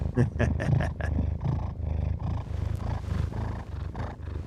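A happy cat purrs steadily like a little motor, a close rhythmic rumble that continues throughout with no talk.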